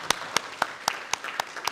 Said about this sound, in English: Give us all a round of applause.